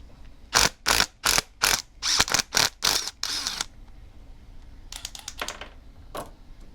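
Plastic brake master cylinder reservoirs are worked loose on a 1979 Datsun 210, giving a quick run of sharp, close ratcheting clicks, then a pause and a few softer rattling clicks.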